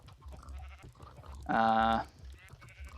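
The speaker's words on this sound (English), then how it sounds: "The sheep can't push me, but I can push them." A Minecraft sheep gives one clear, loud bleat lasting about half a second, over low game background noise.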